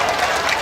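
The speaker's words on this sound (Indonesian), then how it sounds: "tepuk tangan" A crowd at a religious lecture breaks into a short, dense burst of applause, a fairly loud wash of hands clapping together with no voice over it.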